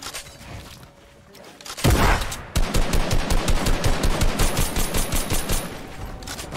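Rapid automatic AK rifle fire in Fortnite Arena Trios, loud close bursts of repeated shots running steadily after a short pause, with a brief heavier burst just before.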